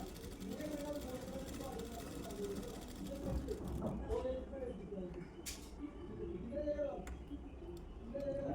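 A sewing machine stitches a folded quarter-inch edge of blouse fabric with a quiet, steady mechanical whir and light ticking, while a voice talks over it.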